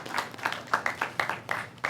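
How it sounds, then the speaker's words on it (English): An audience applauding at a community meeting on roadway safety, a brief burst of scattered claps at moderate level with a few louder individual hands standing out. "let us give a round of applause to Mr. John Singh, Maryland Coalition of Roadway Safety"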